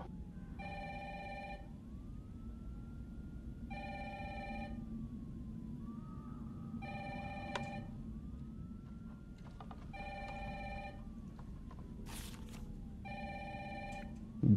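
A telephone rings repeatedly in Resident Evil 3, its evenly spaced bursts of bright trilling standing out over a low background hum and a faint wavering tone, with a short crackling noise late on and no voices.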